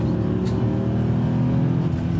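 Mercedes-AMG engine purring steadily at idle, heard from outside the car, a deep, even rumble that stays loud and constant throughout.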